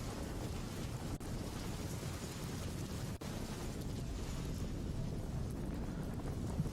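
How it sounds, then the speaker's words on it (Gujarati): Heavy downpour in Bharuch, Gujarat: a dense, steady roar of rain that holds an even level throughout, with no pauses and no voices. "ભરૂચમાં પણ આજે ધોધમાર વરસાદ વરસ્યો હતો"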